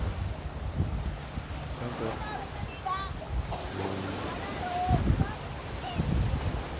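Ocean surf and gusting wind at Tangkaan Beach in Leyte, a continuous rushing wash with wind buffeting the microphone, and scattered voices and brief speech-like sounds over it.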